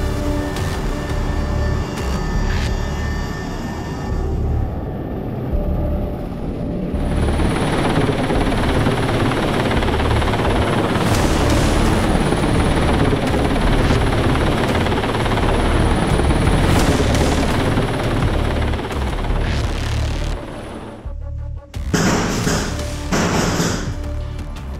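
Steady, loud helicopter rotor roar during a Swiss Army grenadier fast-rope descent, continuous and close for most of the stretch, dropping out briefly near the end before resuming.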